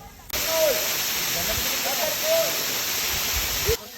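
A waterfall at Sitakunda roars as a constant broad rush of water, with faint voices briefly rising over it.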